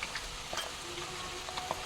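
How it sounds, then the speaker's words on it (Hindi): Chopped onion frying in hot oil for a homemade herbal hair oil, giving a steady close sizzle with small crackles and pops and a few faint stirring scrapes. "देखिए हमारा तेल अच्छे से गर्म हो चुका है। अब हम डालते हैं इसमें प्याज"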